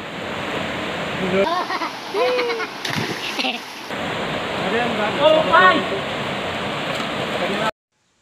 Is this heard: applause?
no